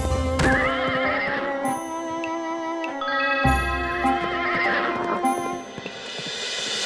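A horse neighs loudly twice in long whinnies, with a few hoof clip-clops in between, close and clear with no talk.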